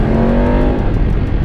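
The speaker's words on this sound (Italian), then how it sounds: "Sentite il motore, è cambiato totalmente il rumore di scarico" The engine and exhaust of a 2018 BMW F850GS motorcycle make a loud, close, steady rumbling drone that runs throughout without any talking.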